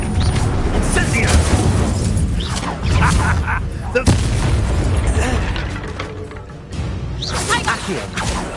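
Fiery Incendio spell blasts in Hogwarts Legacy amid a duel, loud booming bursts and crackling impacts layered over continuous combat clatter, with voices shouting over the action.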